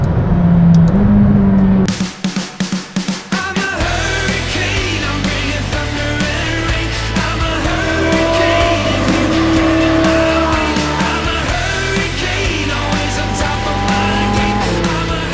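Lamborghini Huracan Evo Spyder supercar on a fast road, starting with a loud revving engine and quick throttle blips, then a sustained roaring engine note that shifts pitch as it accelerates and passes close by.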